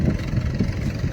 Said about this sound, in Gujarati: બીતા ટ્રેક્ટર હાકે